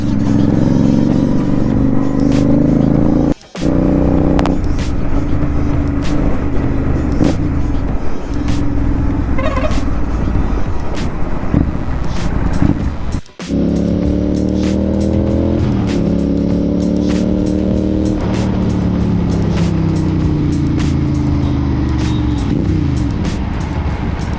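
A GT650 twin motorcycle engine revs up and down while riding close by, its pitch rising and falling, with two brief cutouts in the sound.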